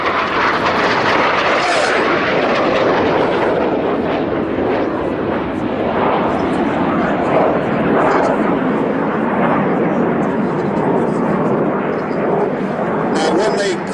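Red Arrows synchro pair jets run in with double rolls at an airshow, producing a loud, sustained roaring rush of engine noise that swells across the whole stretch, with a commentator talking over it.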